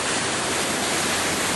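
River water rushing strongly past a bridge and weir on a flooded burn, a dense, steady roar of broadband noise, loud and continuous with no voices.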